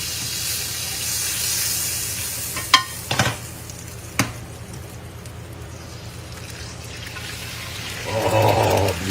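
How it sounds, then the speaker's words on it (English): Egg frying in pork belly au jus for a blackened pork belly BBQ burger, with a soft continuous sizzle, a few sharp clatters early on, and a louder bubbling hiss swelling near the end, no voices. "now we're going to fry the egg. Again, in the pork belly au jus."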